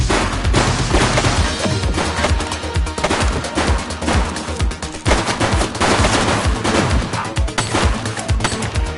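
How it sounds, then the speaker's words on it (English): Dense, loud gunfire fills a police video game firefight in The Precinct, with rapid overlapping shots and bursts that sound like automatic weapons, continuous for several seconds with no letup. "He's shooting!"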